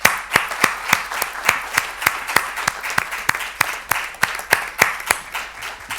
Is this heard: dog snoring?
no